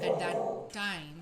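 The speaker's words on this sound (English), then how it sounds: "oh, that's my dog barking." A dog barks twice, short and close, over a person speaking in a calm indoor setting.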